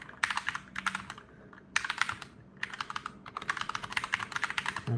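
Typing on a GMMK Compact barebone mechanical keyboard: close, crisp clusters of rapid keystrokes in bursts separated by short pauses, with no talking.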